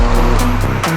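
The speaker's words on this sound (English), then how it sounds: "today I'm going to be driving my very own 2019 BMW M4" A 2019 BMW M4 Competition driving on an open country road, its engine a loud, steady, close drone with a low rumble throughout, alone with no talking.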